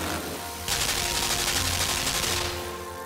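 Rapid gunfire from a gun in the side-scrolling game Limbo, a dense sustained burst that starts abruptly and rattles on loudly for about two seconds before fading, with no talk over it.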